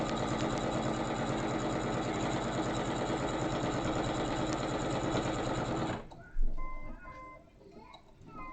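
Sewing machine running continuously while top stitching fabric, a loud close mechanical whir with fast regular ticking that stops abruptly, followed by faint handling noises.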